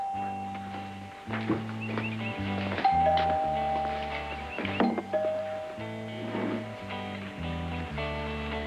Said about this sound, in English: It's the doorbell.